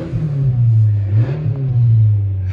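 A Honda CR-V engine roars loud and close with a steady low drone, its pitch climbing slightly midway before holding high, heard alone without talk.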